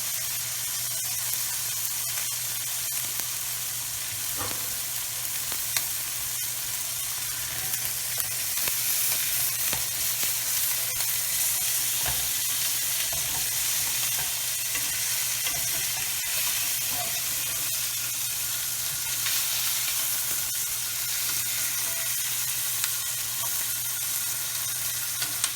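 Chicken pieces sizzle steadily as they brown in a hot pan, a continuous close crackling hiss with occasional pops and stirring scrapes, and no talking.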